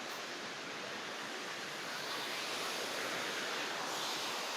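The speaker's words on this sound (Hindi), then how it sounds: "पानी पूरा कुलकुल कुलकुल कुलकुल कुलकुल बही चलछि" Forest stream in Similipal, Odisha, with water flowing steadily. The hiss of running water holds even throughout, fairly near, with no voices over it.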